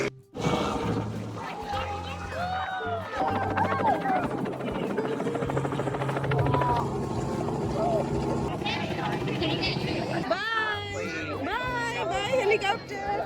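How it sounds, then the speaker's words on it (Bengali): A helicopter flies low overhead outdoors, a continuous loud rotor chop with a steady rhythm that carries through the whole stretch while a family chatters, calls and shouts excitedly nearby. "মিশু, হেলিকপ্টার তো চলে গেল।"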